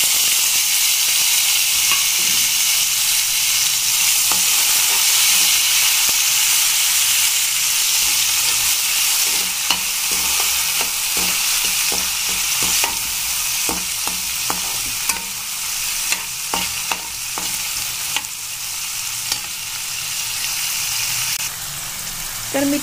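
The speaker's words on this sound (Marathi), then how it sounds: "आता आपल्याला हे छान असं हलवून घ्यायचं आहे।" Green beans with curry leaves and chopped tomato sizzle steadily in a pan for a Maharashtrian dry bean bhaji, with a run of quick spatula scrapes and taps stirring the mix, close and continuous.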